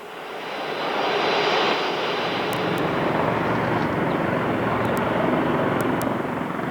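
A 1999 airplane taking off from Kosovo, the engine swelling within the first second into a loud, steady broadband roar that holds to the end with no voices.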